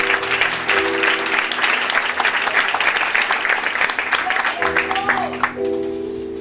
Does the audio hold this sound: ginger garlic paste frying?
no